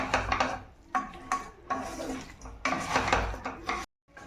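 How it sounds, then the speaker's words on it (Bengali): Chicken with spices being stirred in a pan over a medium-low flame for an oil-free chicken curry, producing close, busy scraping and clattering strokes in quick bursts with brief pauses, no voices. "একটু নাড়াচাড়া করে নেব ভালো করে"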